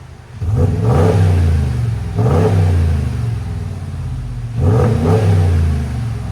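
A 2022 RAM Eclipse Edition pickup with a 5.7L V8 and aftermarket muffler, revved three times in close succession: each rev swells into a deep, loud exhaust roar, then falls back to a rumbling idle.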